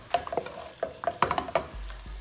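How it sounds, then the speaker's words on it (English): Dry dhaba-style paneer masala simmers in a pan with a soft sizzle as a spoon stirs it. Irregular scraping and clacking strokes come through loud and close. "let it simmer together for about 7 to 10 minutes. So all the masala gets infused with the paneer."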